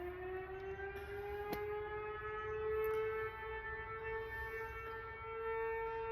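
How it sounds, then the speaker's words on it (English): A fire department civil defense siren sounds its daily noon signal, a steady sustained wail with a slowly rising pitch, heard from a distance outdoors with faint background noise and no talk. "We still have a siren at our fire department that goes off"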